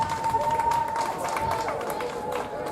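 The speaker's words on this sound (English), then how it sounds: "a round of applause for the man finishing third" Applause from spectators at a track meet greeting the third-place finisher of a race, a steady wash of clapping and crowd noise with a sustained tone running through it.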